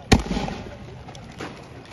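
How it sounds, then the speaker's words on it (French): A single sharp gunshot fired into the air at a street protest in Les Cayes, Haiti, a loud close crack with a brief echo, followed by crowd noise and a fainter second report. "Il a tiré vraie balle, mais c'est en l'air."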